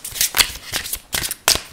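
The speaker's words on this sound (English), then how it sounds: "so I'm just going to shuffle these cards" Four quick riffles of a tarot card deck being shuffled, crisp and close, each burst short and papery with brief pauses between.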